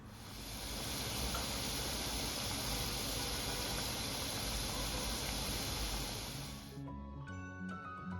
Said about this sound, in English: So let's fry them with Bismillah.